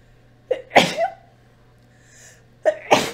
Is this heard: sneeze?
yes